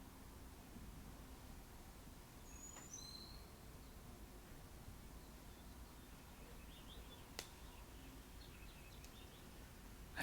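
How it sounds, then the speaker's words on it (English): Birds sing outdoors, faint and distant: a few sparse chirps and short twittering calls over a steady background hiss, with one sharp click partway through. "I hope you can hear those birds."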